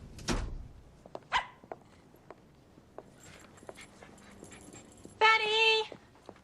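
A dog barks and whimpers in short bursts between quiet gaps, with a loud yelp near the start and a high whining cry toward the end.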